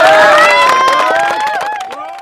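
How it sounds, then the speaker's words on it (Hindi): A crowd at a samosa and lavanglata eating challenge cheers and claps for a participant, loud close-up shouts and applause that fade slightly over about two seconds. "इनके लिए भाई जोरदार तालियां"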